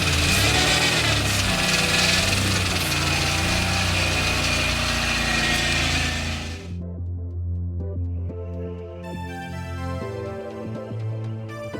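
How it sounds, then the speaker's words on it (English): A 600+ hp Subaru Levorg engine idles with a loud, steady rumble for about six seconds, then drops to a quieter, even hum with a faint tonal whine for the rest of the clip; no voices. "Right, gonna idle it."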